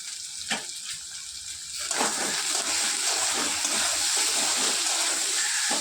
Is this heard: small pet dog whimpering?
no